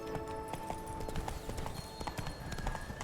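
Roach, Geralt's horse in The Witcher 3, gallops with a steady, close clip-clop of hooves over a continuous bed of game music and ambience.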